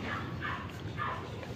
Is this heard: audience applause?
no